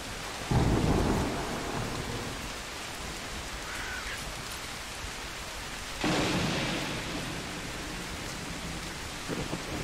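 Thunder and rain from a video game storm: two heavy rumbling thunderclaps roll over a steady wash of rainfall, loud and close, with no voices.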